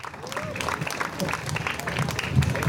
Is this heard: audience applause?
yes